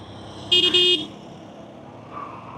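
A vehicle horn blares in road traffic, heard from a motorcycle: two loud, close, back-to-back honks lasting about half a second in total, over a low traffic rumble.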